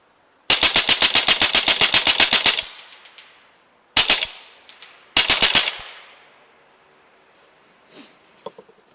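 Loud, close full-auto bursts from an LCS SK19 .25 caliber rifle at a 100-yard range: one long rapid string of about sixteen shots, then a short burst and a second burst, with echoing tails and faint clicks after.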